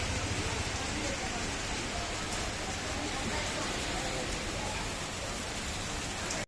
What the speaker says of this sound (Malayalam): അപ്പോൾ ഭയങ്കര മഴയാണ്.